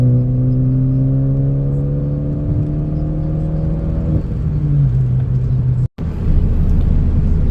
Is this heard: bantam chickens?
no